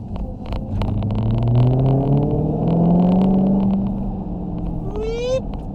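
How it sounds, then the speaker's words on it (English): A 2020 Dodge Challenger Hellcat Widebody accelerates hard, its engine climbing in pitch with a rising supercharger whine over a deep rumble, heard close from inside the car, ending in a brief high shift. "Supercharger whine never gets old in this car."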